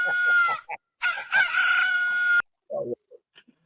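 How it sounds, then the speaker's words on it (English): A rooster crows loudly in a played sound clip, one long cock-a-doodle-doo call followed by a shorter crow and a few soft clucks, close and clear with no talk over it. "Here come the rooster."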